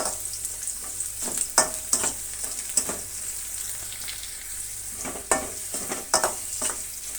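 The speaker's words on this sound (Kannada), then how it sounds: "ಇಷ್ಟನ್ನು ನಾವು ಚೆನ್ನಾಗಿ ಫ್ರೈ ಮಾಡ್ಕೋಬೇಕಾಗತ್ತೆ" Peppercorns and cumin seeds frying in a pan, a constant bright hiss with repeated sharp scrapes and taps of a spoon stirring at irregular intervals, close by and with no talking.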